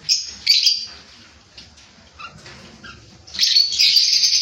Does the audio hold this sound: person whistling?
no